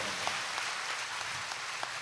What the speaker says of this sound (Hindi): पुनः सब एक दूसरे के उत्साह वर्धन में तालियों की गड़गड़ाहट कर रहे हैं